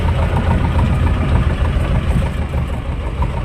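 T-25 tractor engine idling in a village yard, a loud steady low rumble with an even mechanical chug, close up and alone.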